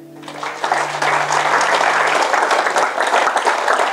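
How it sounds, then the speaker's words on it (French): Congregation in a church bursts into loud, sustained applause after a baptism celebration, dense clapping rising quickly and holding steady, with a brief sung or spoken tone fading at the start. "applaudissez"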